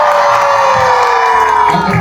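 A large crowd cheers and shouts loudly together, with children's high voices whooping in a sustained, dense roar that swells briefly near the end; clapping is not distinct beneath the shouting.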